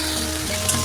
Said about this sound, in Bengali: এবার আমি এটা খুলছি, খুলে এবার আমি একটু নাড়িয়ে চাড়িয়ে দেবো।